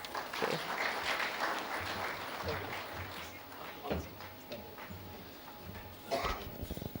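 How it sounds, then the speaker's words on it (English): Applause from an audience after a keynote address, clapping rising and falling in bursts at moderate distance, with brief voices and room noise between the louder surges. "A big round of applause once again"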